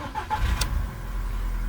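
A petrol Seat, VW or Audi car with the engine warning light on cranks briefly and starts, then settles into a steady, close idle rumble.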